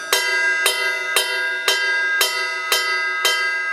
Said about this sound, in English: Here's the bell with the shoulder of the stick.